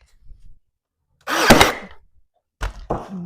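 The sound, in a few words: brad nailer shooting a brad nail into furniture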